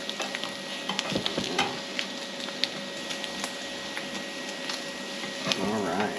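Spam slices fry until crispy in a pan cooking on a solar generator, giving a steady close sizzle with scattered pops and scraping stirs throughout.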